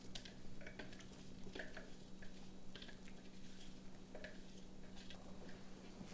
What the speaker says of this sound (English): So all I'm going to do is just scrape this right into our bowl